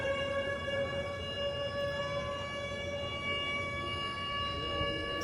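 A civil defense siren wails steadily over an outdoor campus encampment at UCLA, a sustained harmonic tone that holds level throughout against a low crowd murmur.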